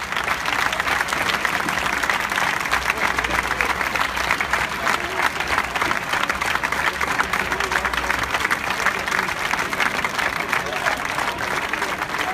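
A crowd at Parma Calcio's team presentation applauds steadily as one of the club's youth football squads is introduced, with dense, continuous clapping at an even level for the whole stretch.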